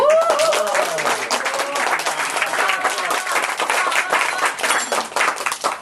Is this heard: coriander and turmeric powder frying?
no